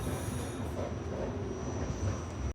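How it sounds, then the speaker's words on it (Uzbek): New York subway train ride heard from inside the car, a constant loud rumble of wheels and carriage noise with a thin high tone above, steady throughout. "Yaqina poyezdga endi o'tirdim."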